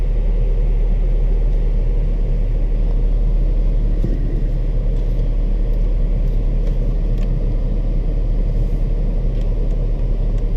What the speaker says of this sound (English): So we're now in the Panamera.